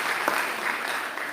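An audience claps steadily for an honored guest at a cultural event on women's role in environmental protection. The applause is even, dense, and moderately loud through the whole short stretch, with no voices over it.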